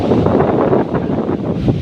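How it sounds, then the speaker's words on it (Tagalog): Strong typhoon wind buffets the microphone in a continuous, rumbling roar with gusty fluctuations, close and loud throughout. "Lakas ng hangin, nadadala ko."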